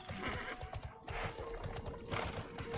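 Rhythmic clip-clop of a ridden mount's hooves in the online game TERA, steady and fairly loud throughout, with a horse whinny rising partway through.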